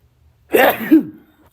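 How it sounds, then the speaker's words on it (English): A single sharp, explosive sneeze up close, short and loud, followed by silence. "I got to sneeze"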